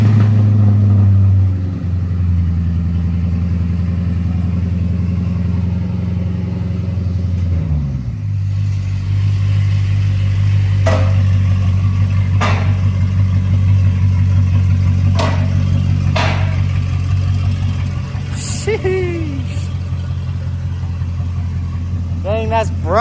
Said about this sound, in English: We're gonna get a little cold start.